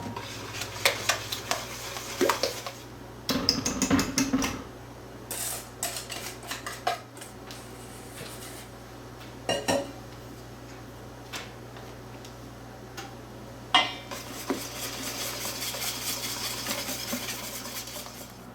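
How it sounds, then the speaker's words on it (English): A wire whisk folds meringue into lemon pudding cake batter in a bowl, giving soft scraping strokes and sharp clinks of metal against the bowl in irregular bursts, close and fairly quiet. "We're just going to fold in this meringue half at a time using a wire whisk."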